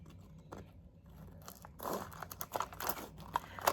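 Ice cream packaging foil being handled, a few quiet crinkles early, then a busier run of close crumpling and crackling rustles toward the end, with no voices.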